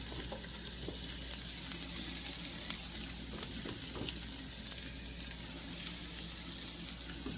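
Spices and dried curry leaves fry in a small amount of oil, giving a steady close sizzle and crackle with occasional stirring scrapes throughout, and no talk over it.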